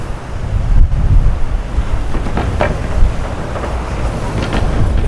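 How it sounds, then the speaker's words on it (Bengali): Wind gusts outside before a storm in a Bengali cartoon, a steady, fairly loud rushing with rumbling swells and a few soft knocks. "বাইরে কি সুন্দর হাওয়া দিচ্ছে"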